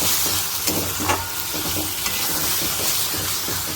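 Ghugni made with raw peas, black pepper and cream fries in a pan while a spoon scrapes and stirs it in irregular strokes, all over a steady close sizzle. Nobody speaks.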